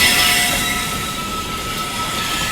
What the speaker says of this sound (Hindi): ये जो देख रहे हो चंबल जा रही है अपनी जिस लाइन पे